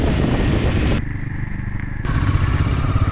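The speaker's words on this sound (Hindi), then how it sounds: "बहुत बहुत लाइट लग रहा है बाइक को चलाने में." A lightly loaded motorcycle ridden through Leh, Ladakh runs with a loud, close, steady engine drone and some rattling wind buffeting.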